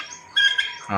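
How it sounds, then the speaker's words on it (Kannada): A male turkey on a farm gives one short, harsh squawking call, close and fairly loud, lasting well under a second. "ಇದು ಗಂಡ ನೋಡಿರಿ, ಇದು ಟರ್ಕಿ ಕೋಳಿ"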